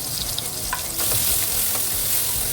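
Chopped garlic and onion sizzle in a hot pan with oil, a close, loud, continuous crackle that swells after being stirred, with no talking.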